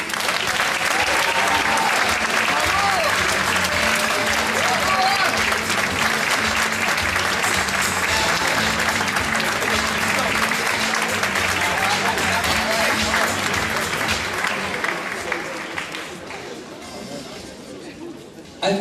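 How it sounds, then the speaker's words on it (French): Thunderous applause from an audience at an award ceremony, a loud, sustained roar of clapping mixed with crowd chatter and voices, fading toward the end. "je vous demande un tonnerre d'applaudissements pour Anne Texier"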